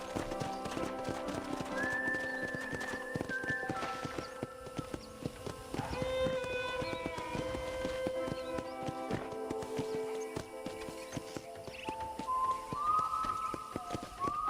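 Horse hooves clip-clop at a steady walking rhythm in a ranch-set video game, up close and continuous, with whistle-like tones and music-like notes layered above.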